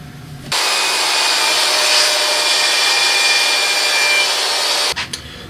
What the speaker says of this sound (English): That's going to let me cut off the chamfered edge and leave a decent size amount of edge at the bottom